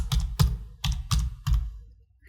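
Short bursts of keystrokes on a computer keyboard, about five close, distinct clicks clustered over two seconds, then quiet.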